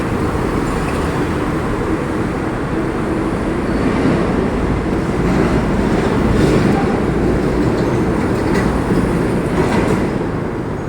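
A train passes by on a city street in Mandaluyong, a loud, sustained rumbling roar of rolling railcars with clattering wheels that builds slightly and fades toward the end, with no talking.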